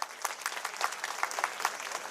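A standing crowd at a local festival applauds to welcome the Chief Minister, a fairly faint and brief patter of scattered claps with a few louder hands standing out, no speech over it.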